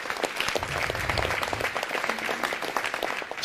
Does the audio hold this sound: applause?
yes